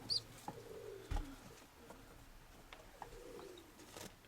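Pigeons cooing softly inside a dovecote, low murmuring coos repeating at a distance amid faint rustling and background hiss, with no talking.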